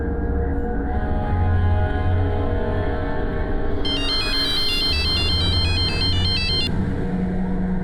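Mobile phone ringtone, a loud electronic melody of repeated tones playing for about three seconds over a steady background rumble of engine and traffic noise.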